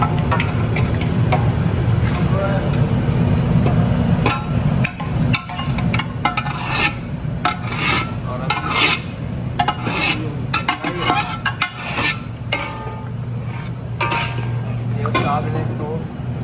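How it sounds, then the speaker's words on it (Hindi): Tender cooked beef for aloo gosht is shifted into a kadai, with repeated loud scraping and clanking of metal utensils against the wok over a continuous sizzle, fairly close. "ये कढ़ाई में शिफ्ट किया जा रहा है जनाब"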